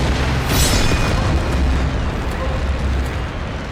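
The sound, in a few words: missile explosion in Metalstorm video game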